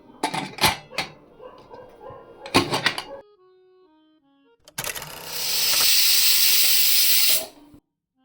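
A pressure cooker whistle releases a loud, steady hiss of steam for about three seconds while cooking sheep intestines, preceded by clattering and a faint tonal whine.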